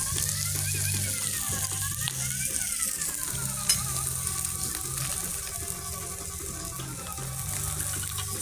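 Food fries in a pan with a continuous close sizzle and bubbling crackle, a faint low hum beneath it and one brief knock midway, with no speech.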